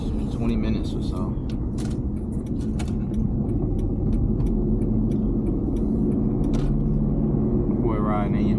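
AMG Mercedes-Benz CLS 550, a wrecked car with 100,000 miles, driving on the road: steady loud low engine and road rumble fills the cabin throughout, with brief clicks and rattles above it.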